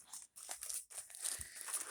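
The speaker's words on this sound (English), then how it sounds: "So I try to crumple it as much and trying to be careful not to rip it." Painted paper bag being crumpled by hand close up, quiet crinkling and crunching in short bursts separated by brief pauses.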